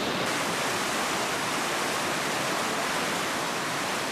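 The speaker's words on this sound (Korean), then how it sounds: "폭포처럼 떨어지는 물줄기를 따라 좀 더 숲속으로 들어가면 발원지가 나옵니다." A waterfall in a forest in Israel roars as a constant, close, full-bodied rush of falling water, steady and unbroken from start to finish.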